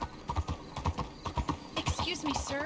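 Horse hooves in the video game Red Dead Redemption 2 clip-clop in a steady, close, walking rhythm, with a brief whinny-like squeal and game noise rising near the end.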